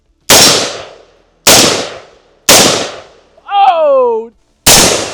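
Loud gunshots from an AR-15 style rifle, a Hi-Point HP-15 or Radical RF-15 SOCOM, fired outdoors: four sharp reports at steady intervals, each with a decaying tail, and a brief metallic ringing clang between the third and fourth.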